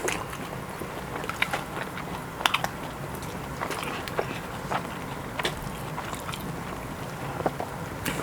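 Crunchy pizza from a Gozney Arc XL oven is bitten and chewed close up, giving faint, irregular crisp crackles and crunches over a soft background hiss.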